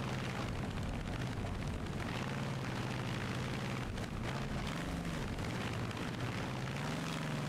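A naturally aspirated 1200-horsepower Rolls-Royce Griffin V12 in the BeamNG.Drive driving game, a dense continuous engine roar with a low droning rumble, held at a steady, loud level throughout with no talking.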